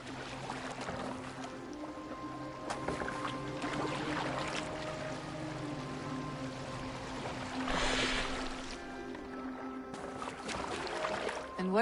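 Boat gliding over water in Assassin's Creed Valhalla, soft splashing and wash under a faint musical bed, with a brief louder surge of water partway through.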